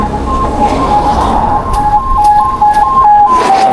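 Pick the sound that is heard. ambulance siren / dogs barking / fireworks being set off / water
ambulance siren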